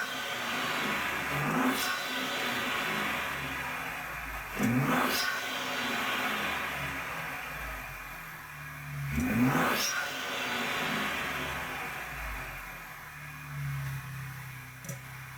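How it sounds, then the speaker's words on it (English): A 2021 Ford Bronco with the 2.7L engine and an Injen Evolution cold air intake revs three times in long, rising sweeps over a constant idle. The engine sounds moderately close, and no one talks. "we're gonna hop in the Bronco and see how the intake sounds"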